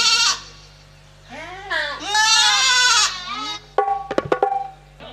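A goat on a path gives several loud, close, wavering bleats one after another, followed by a burst of sharper clattering sounds near the end.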